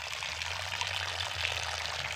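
Water from an original natural spring trickles and pours steadily, a continuous close splashing flow with a low hum beneath, no talking heard.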